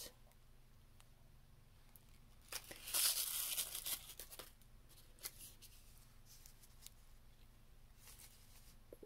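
Thin foil sheets for a mini birthday piñata crinkle and tear in a loud burst of rustling near the middle, with softer scattered crackles and handling noises before and after.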